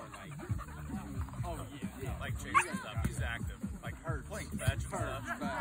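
An Australian Shepherd collie mix dog gives short yips and whimpering barks close by, mixed in with people talking over it.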